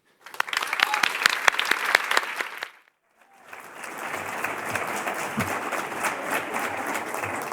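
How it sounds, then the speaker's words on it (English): An audience at a tech and democracy venture event in Madrid applauds loudly, a dense burst of clapping that stops briefly and then resumes as a softer, steadier wash of applause. "I would like to give the stage with a great applause to Diego de Alcázar Benjumea"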